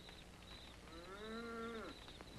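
A cow from a cattle herd lets out one long, drawn-out moo that rises and then falls away, heard fairly close against a steady outdoor background.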